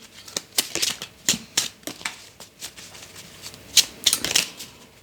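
Tarot cards shuffled and drawn by hand, with crisp close-up riffles and snapping flicks in uneven bursts, louder clusters near the end, and no talk.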